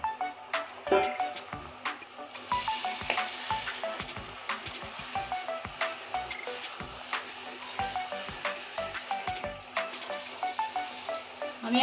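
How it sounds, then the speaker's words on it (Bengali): Marinated chicken sizzling and frying in a pan with chopped tomato, a steady crackle broken by frequent clicks of a utensil stirring against the pan, close and continuous throughout with no voices. "ম্যারিনেট করা মাংসটা আমি এখন দিয়ে দিচ্ছি"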